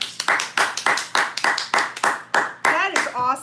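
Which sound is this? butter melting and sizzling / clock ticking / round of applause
round of applause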